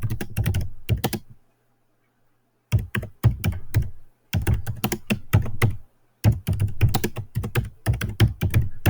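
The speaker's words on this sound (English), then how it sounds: "I type it in there." Fingers type on a computer keyboard in close, crisp bursts of rapid keystrokes, separated by short pauses of silence.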